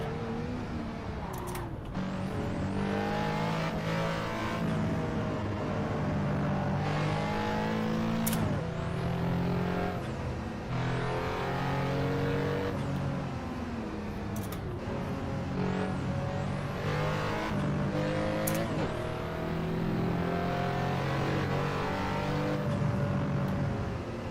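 A race car in Assetto Corsa driven hard in a public No Hesi session, its engine constantly revving up and down through gear changes, loud and close without pause.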